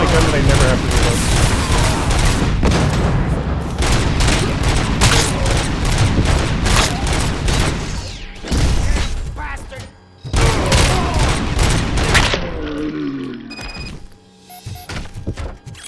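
Rapid gunfire and heavy impacts from the RoboCop: Rogue City video game: dense, loud volleys of shots that keep pounding almost without a break, pausing briefly twice, with someone talking over parts of it.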